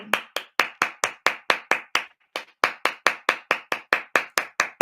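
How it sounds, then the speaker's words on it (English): A single person clapping hands in a steady, moderately fast rhythm, about twenty crisp claps close to the mic with one brief pause partway, no talking. "I give Will Smith a round of applause."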